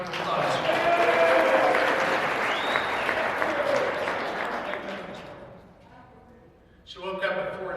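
An audience at a company kickoff and awards meeting claps warmly for several seconds, loud at first and then thinning out, before a voice starts speaking as the applause dies away.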